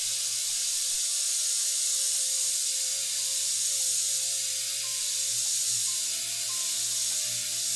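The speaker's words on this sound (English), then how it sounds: "Get some paint coming out this airbrush" An airbrush sprays paint in a steady, loud, continuous hiss, close up and uninterrupted, with no talking.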